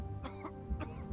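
A person gives two short, sharp coughs, close and fairly quiet, with a brief pause between them.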